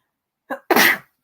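A single sneeze, close and fairly loud: a short in-breath followed by a sharp, burst-like expulsion lasting about a third of a second, then silence.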